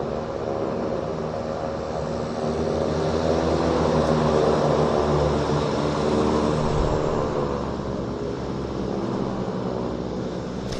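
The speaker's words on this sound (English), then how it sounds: "This is a medevac aircraft, Beech 19, King Air, I should say." A Beech King Air medevac turboprop at Vancouver Airport drones steadily with a broad propeller-and-engine roar, fairly loud and sustained for the whole stretch, with no talk over it.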